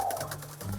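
A turtle dove coos softly and steadily at a dove-fighting gathering in Minang country, a low mellow call close by with faint background murmur.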